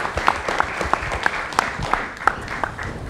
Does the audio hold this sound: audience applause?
yes